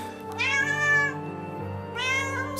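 A domestic cat meows twice, loud and close, with drawn-out, plaintive cries as its owner comes home after three days away.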